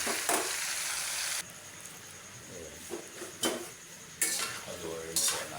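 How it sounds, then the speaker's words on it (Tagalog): Pork and tomato sizzle in a frying pan while being stirred, with a continuous frying hiss broken by repeated scraping strokes and clinks of a utensil against the pan, close and moderately loud. "Haluin po natin itong ating pork."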